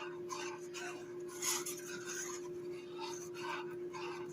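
Whisking cheese sauce in a pot for macaroni and cheese: a continuous scraping, rasping swish of the whisk against metal, steady and close, with a constant hum in the background.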